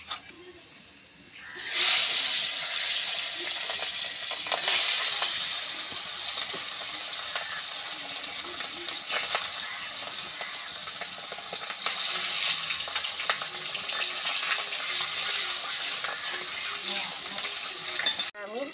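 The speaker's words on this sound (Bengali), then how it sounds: "কড়াইটা গরম হয়ে গেলে এবার আমি মাছটা ভাজবো।" Boal catfish drops into a hot wok with dry salt and bursts into loud sizzling, then keeps frying in a steady hissing crackle with occasional spatters and pan clinks.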